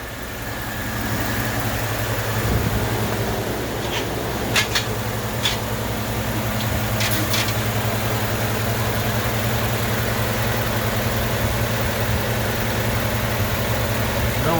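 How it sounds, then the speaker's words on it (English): A truck engine with a swapped camshaft idles inside a garage, producing a steady, continuous low rumble heard up close, with a few faint clicks and taps over the drone. "I'm gonna go ahead and let you listen into the engine real quick."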